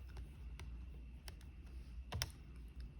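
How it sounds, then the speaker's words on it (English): Keys pressed on a calculator while a logarithm problem is entered, a handful of sharp, separate clicks spaced irregularly over a low steady hum, close and fairly quiet. "this is what I will be typing in my calculator"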